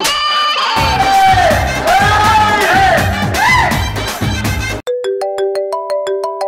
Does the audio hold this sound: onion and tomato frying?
no